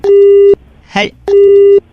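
Phone busy tone after a dropped call: two long, loud, steady beeps, each about half a second, separated by a short burst of other sound.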